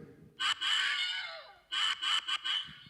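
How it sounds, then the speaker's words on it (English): The Wilhelm scream movie sound effect, a loud drawn-out yell followed by a few shorter choppy cries, standing alone and close. "that's the Wilhelm scream"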